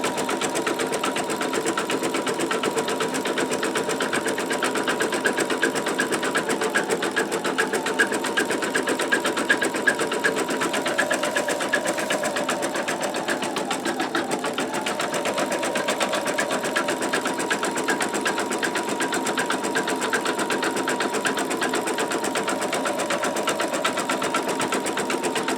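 A MagnaHoop magnetic embroidery machine sews a triple run stitch through a quilt top and polyester batting, giving off a steady, fast, continuous whirring hum that stays close and even throughout.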